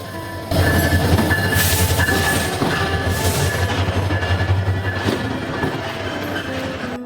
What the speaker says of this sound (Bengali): কিন্তু সময়ের আড়াই ঘন্টা পর এসে পৌঁছালো আমাদের লালমনি এক্সপ্রেস